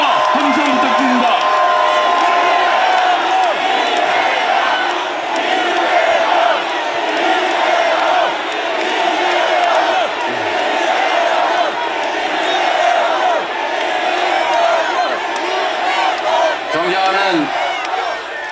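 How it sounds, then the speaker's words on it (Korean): A huge crowd at an outdoor political rally calling for a president's resignation and impeachment roars, cheers and shouts nonstop. The sustained, loud wall of voices includes whoops and a scattering of claps. "여러분 뜨거운 박수와 함성 부탁드립니다"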